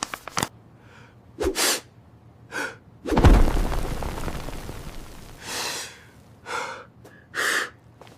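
A few sharp breaths and gasps come before one forceful sneeze bursts out at close range, followed by more quick, breathy inhales.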